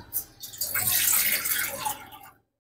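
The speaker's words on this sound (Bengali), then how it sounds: "সিদ্ধ করার জন্য বাটিতে আমি জল দিয়ে দিচ্ছি।" Water being poured into a bowl for boiling moong dal while making a dal-and-milk sandesh, a steady rushing splash that swells and then stops abruptly, close and fairly loud with no talk.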